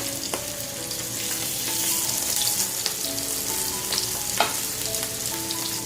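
Cutlets frying in hot oil give a steady, close sizzle, with occasional clinks and sharper pops from turning them in the pan.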